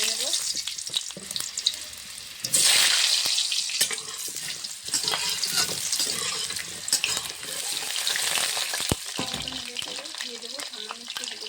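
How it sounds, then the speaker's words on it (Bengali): Potatoes fry in mustard oil in a wok, giving a loud, steady sizzle throughout with a brief louder burst of crackling early on and occasional stirring clatter. "আমি এখন আলুটা ভেজে নেব সর্ষের তেলে"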